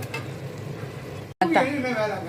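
Tomatoes sizzling in a pan and pressed and mashed while frying for a bachelor-style tomato thokku, a steady hiss with scraping stir sounds, briefly interrupted, and a voice talking over part of it.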